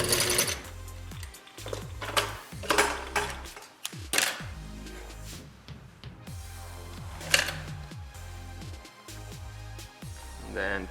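A sewing machine stitches a leather strap closed in repeated bursts of rapid mechanical chatter, separated by brief pauses and handling noises.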